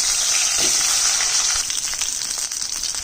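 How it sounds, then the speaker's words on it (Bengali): Taro and fish rubbed with salt and turmeric fry in oil, a steady bright sizzle close by with faint scattered spatters, no voices. "মাছে নুন হলুদ মেখে ভেজে নিচ্ছি কচুটা ভেজে নিচ্ছি"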